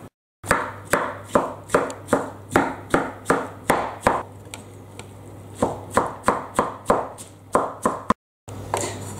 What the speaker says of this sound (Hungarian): ezt azonnal aprítom is össze